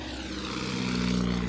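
At the SUN 'n FUN 2012 fly-in, a propeller airplane passes overhead with a steady droning engine that swells slightly louder as it goes by, heard alone without talk.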